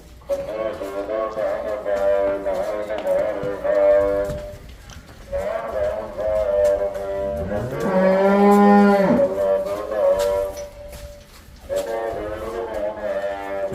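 Several long, deep moos from buffaloes and cows, one after another at close range, each call drawn out with short pauses between them.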